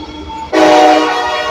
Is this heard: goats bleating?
no